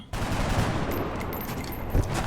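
Gunfire in the video game XCOM Enemy Within, Long War mod: a sustained burst of shots with sharp low cracks, loud and close, with no talk over it.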